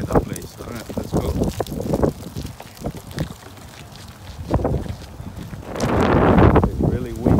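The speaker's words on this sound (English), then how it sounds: "It's really windy today." Wind buffets the microphone outdoors on a very windy day near a sushi restaurant, gusting and rumbling with a heavy surge toward the end, while people talk over it.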